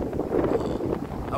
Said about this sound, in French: Oh là putain, je peux pas parler, il y a trop de vent.